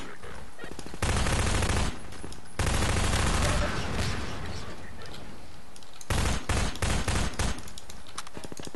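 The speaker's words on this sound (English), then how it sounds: "Oh, shot him in the head." Automatic weapons in Half-Life 2 fire in three loud sustained bursts, each a rattling stream of rapid shots separated by short lulls.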